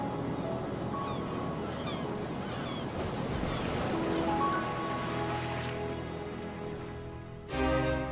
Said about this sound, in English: Sea.